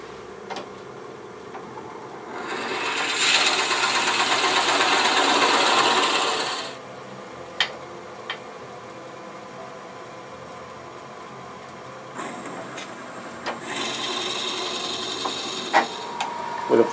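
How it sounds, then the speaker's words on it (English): A power drill with a 1 1/8 inch bit bites into wood on a lathe for a turned ornament, a loud grinding whir for a few seconds, stops, then starts again briefly, with small clicks and knocks between. "I'm going to drill to this first one with,"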